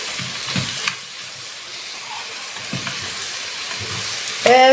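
Meat and cinnamon samosa filling fries in a pan with a steady sizzle and occasional stirring scrapes, and a brief spoon clink at the end.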